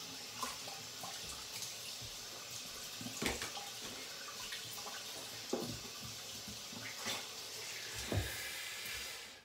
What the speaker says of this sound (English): Let me rinse down here for a second.